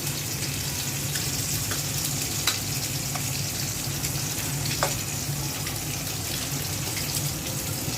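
Fish fries in hot oil with green chillies and coriander leaves, giving a steady, close sizzle that runs throughout with a few faint clicks and no voices.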